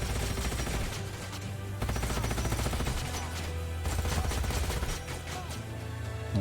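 Continuous rapid gunfire from combat units in the sci-fi strategy game Age of Wonders: Planetfall, a dense, steady stream of shots over a low rumbling backdrop with no talking.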